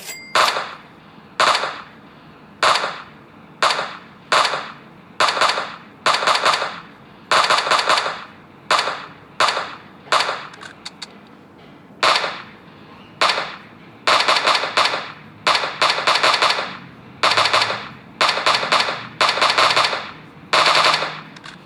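Rapid bursts of video-game gunfire repeat steadily, each volley a short loud rattle of automatic shots separated by brief pauses, with no voices.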